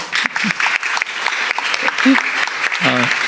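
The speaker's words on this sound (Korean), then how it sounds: "우리 박수 한번 칠까요?" Audience clapping at a startup concert event, a bright burst of applause filling the room, with brief speech-like voice fragments cutting in near the end.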